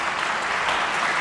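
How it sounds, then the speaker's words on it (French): A studio audience on a French television word-game set applauds two contestants with steady, dense clapping that holds evenly and fills the short stretch alone. "Merci d'applaudir pour nos deux candidats."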